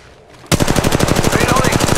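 Rapid automatic gunfire from the Apex Legends video game played on an iPad, a sustained burst of evenly spaced shots starting abruptly after a brief quiet moment and running loud to the end.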